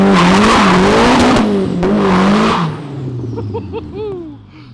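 A Nissan KA four-cylinder car engine on a dyno revs hard and loud with a rising, roaring tone, then eases off into lower, uneven rumbling with a few quick throttle blips.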